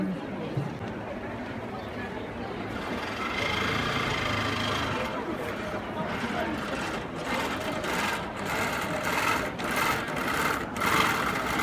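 A Bernina sewing machine stitches steadily with a continuous close-up mechanical whir, its speed shifting slightly as a voice talks over it throughout.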